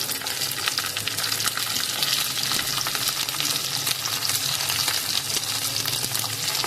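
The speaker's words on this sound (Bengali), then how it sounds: "রসুনটা হালকা হালকা ব্রাউন হয়ে এসেছে এবার দিচ্ছি বেগুনগুলো" Eggplant pieces fry with browned crushed garlic in hot oil, a loud continuous sizzle with close stirring scrapes running through the whole stretch.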